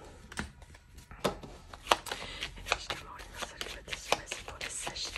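A 32-card deck being shuffled by hand, giving a run of soft, quick riffling and tapping bursts at close range, with no talk.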